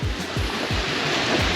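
Water runs off a dam wall into a lake outdoors, a continuous broad rushing wash with soft rhythmic surges, steady and moderately loud, with no voices.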